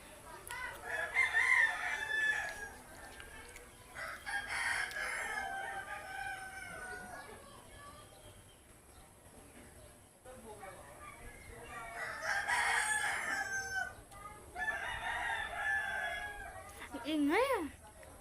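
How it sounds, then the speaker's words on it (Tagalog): Roosters crowing repeatedly in bursts at fairly close range, interleaved with clucking fowl, and a person talking intermittently between the crows. "Ingay na manok."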